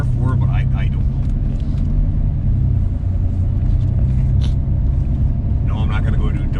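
Engine of a 1992 Chevy Blazer, likely with a 700R4 automatic, rumbles steadily and loudly from inside the cab as it drives, with people talking over the low drone.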